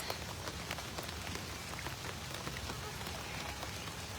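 Rain from Tropical Storm Elsa falls at a big cat sanctuary, a constant dense patter of drops hitting surfaces, steady and moderately loud throughout with no voices.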